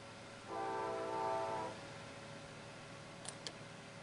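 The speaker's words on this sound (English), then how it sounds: "Probably hear that train going by." Distant train horn sounding a sustained chord for about a second over faint outdoor background hiss, heard a couple of blocks from the tracks, followed by two short soft clicks.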